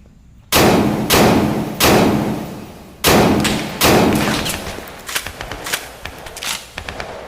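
Gunshots ring out as loud, heavy booms, five widely spaced reports each trailing a long echoing decay, followed by a quicker run of fainter, sharper cracks.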